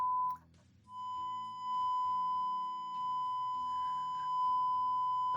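A steady 1000 Hz test tone plays through a Peavey MegaBass amplifier under repair. The pure whistle-like tone holds nearly the whole time, with a low rumbling hum and faint shifting sounds beneath it.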